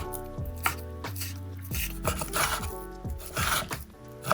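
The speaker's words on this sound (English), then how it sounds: "Now we cut our steak. Okay, we're gonna cut this into very thin slices." A knife slices Scotch fillet steak into thin strips on a board, with repeated close cuts and thuds of the blade striking the board, coming in an uneven rhythm and loudest near the end.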